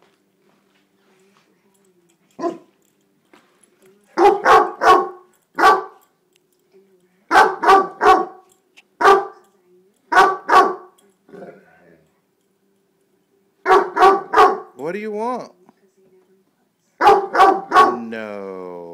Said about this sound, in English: No, we don't bark.